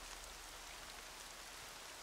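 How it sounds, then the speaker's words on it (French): Steady rain patter in the video game Horizon Zero Dawn, a dense even hiss of drops falling on a surface, continuous and fairly quiet with no voices. "Parce qu'il fait noir puis qu'il pleut."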